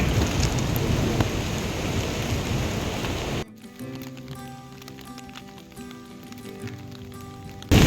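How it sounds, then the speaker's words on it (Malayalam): Steady rain hisses loudly on a trek to Kareri Lake in Himachal Pradesh, then cuts off abruptly partway through, giving way to quieter music-like tones. "ഓ നല്ല മഴ വരുന്നുണ്ട് കേട്ടോ. മഴ പെയ്യുന്നുണ്ട്, ചെറിയ മഴ പെയ്ത്"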